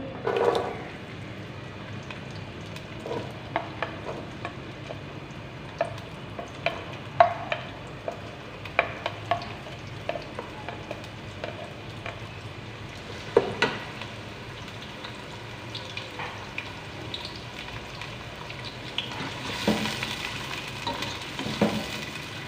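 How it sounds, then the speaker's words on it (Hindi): Onions frying in hot ghee for an aloo and qeema salan, a steady close sizzle broken by scattered clinks and scrapes of stirring, with a brighter hiss swelling near the end. "यहाँ पे घी हमारा गर्म हो चुका है। अब हम प्याज डालेंगे।"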